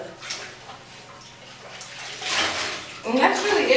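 A synthetic wig is dunked and swished in a basin of soapy water. Quiet sloshing builds into louder splashing churns toward the end, while a person talks over it.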